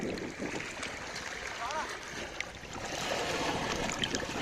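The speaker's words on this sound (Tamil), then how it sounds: "நல்லா தண்ணி வர ஸ்பீடை பாருங்கள்" Fast-flowing water of the Cheranmakhadevi river rushes steadily and fills the scene, close by and fairly loud, with a voice speaking over it.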